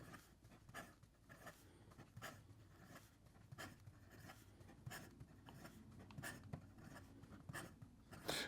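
A Radius Prisma fountain pen scratches quickly across paper in rhythmic, close strokes, a rapid run of soft scraping bursts with brief pauses between words.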